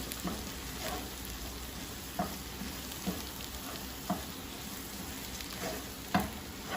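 Spices and pepper powder sauté in a pan for a pearl spot fish molee, with a steady crackling sizzle and a handful of sharp stirring knocks spaced about a second apart; no speech.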